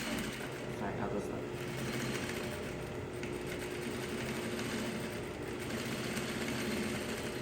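A sewing machine runs continuously while stitching in the ditch along a corset casing, a steady close mechanical hum and rapid needle chatter with no pauses.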